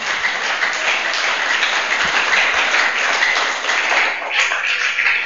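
Congregation applause at a church service, a loud, dense and continuous wash of many hands clapping that fills the whole stretch evenly without talk.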